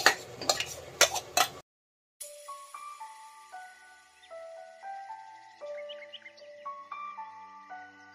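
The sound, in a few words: stirring marinated jackfruit into fried onions in a pan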